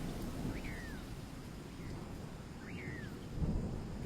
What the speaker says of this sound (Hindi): जंगल में अभी बारिश शुरू है।